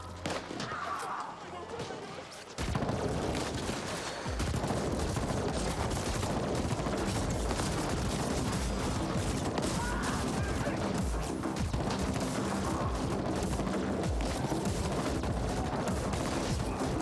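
Gunfire in the sci-fi action game The Ascent, a steady dense barrage of shots and impacts that kicks in after a quieter opening and keeps going without letup, loud and close.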